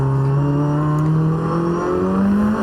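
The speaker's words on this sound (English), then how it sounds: "The Type R, the Honda, clearly using its VTEC out of the first turn, moving up into the lead" Honda Type R touring race car at the Nürburgring accelerating hard out of a turn on VTEC, a loud, close engine note climbing steadily in pitch as it pulls through the gears.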